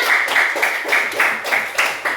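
Children in an Indonesian classroom clap in unison in a quick, even rhythm of about four sharp claps per second. The claps are loud and close, with no talking over them.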